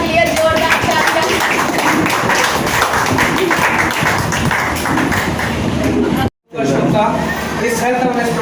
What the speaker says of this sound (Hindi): उत्कर्ष सर लिए जोरदार तालियां